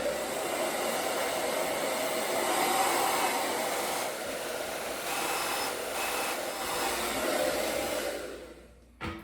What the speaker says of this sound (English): I'm pressing the cold blast when I feel it getting a little too hot